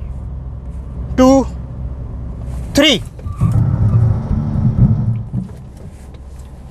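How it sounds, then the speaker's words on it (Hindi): A Ford EcoSport brakes hard from 50 km/h, giving a low, rough rumble of tyres and body for about two seconds after a voice counts aloud, then settling into steady road noise. "अब मैं ब्रेक दबाने वाला हूँ"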